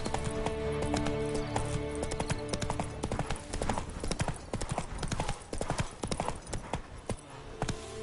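Roach, a horse in The Witcher 3, gallops with a quick, rhythmic clip-clop of hooves, loud and steady, over a faint musical drone.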